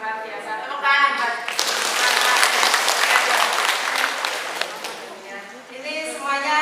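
An audience bursts into loud, sustained applause at a community health-worker competition, many hands clapping at once for several seconds before fading, with a speaker's voice just before and after.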